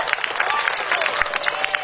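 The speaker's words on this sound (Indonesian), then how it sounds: "Tepuk tangan untuk para kiai dan santri." At a Sundanese religious sermon, the audience applauds for the kiai and santri. It is a dense, steady burst of many hands clapping close by, filling the whole moment without pause.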